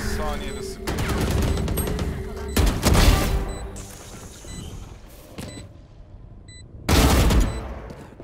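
Bursts of rapid automatic gunfire from Valorant rattle out in several separate volleys, loud and close, separated by quieter gaps with faint game effects, while people talk in between.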